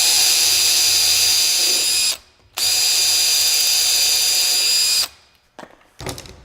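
A power drill drives screws into a door in two long, loud, steady whirring bursts, each cutting off sharply, followed by a brief clatter.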